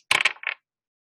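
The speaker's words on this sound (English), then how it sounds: "as we take our dice, we're going to roll and see what numbers that we get" Dice are rolled and clatter briefly on a hard surface in a quick burst of rattling clicks, then a short second skitter before silence.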